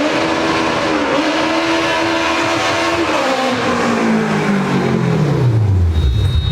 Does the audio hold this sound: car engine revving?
yes